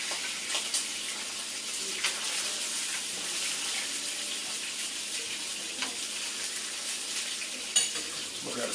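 Dry aged ribeye steaks sear in a hot pan, giving a steady, bright sizzle with occasional crackles and pops, close and continuous.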